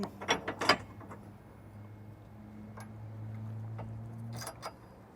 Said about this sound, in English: you'll take your arms, slide them in, give them a quarter turn until this is in the vertical position. You can then put your pin in place